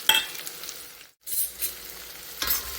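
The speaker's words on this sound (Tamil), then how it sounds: "இப்போ நல்லா கலந்து விட்டு வதக்கி விட்டுக்கலாம்" Shallots, dried red chillies and curry leaves sautéing in oil for a Tamil uppu kari, a close sizzling hiss stirred in bursts, with one short full silence midway before the frying sound returns.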